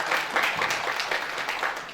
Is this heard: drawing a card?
no